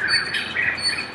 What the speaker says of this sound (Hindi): शांत वातावरण में चिड़ियों की चहचहाहट मंत्रमुग्ध कर देगी।